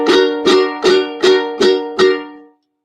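Six evenly spaced ukulele chord strums, bright and ringing, each struck about half a second apart and left to fade at the end. No voices.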